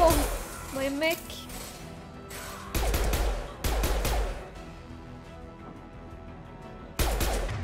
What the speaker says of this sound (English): Shooting in this game is pretty hard